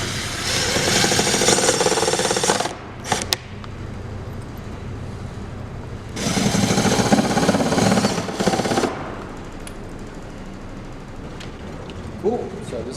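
A power driver sends screws into a climbing wall volume. Two long, loud, buzzing runs are separated by a quieter whirring stretch, with a few clicks in between.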